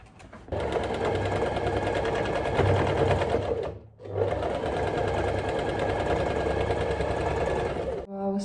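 A sewing machine runs in two long continuous bursts while stitching corset fabric, a steady, loud, close-up mechanical whir with a brief pause between runs.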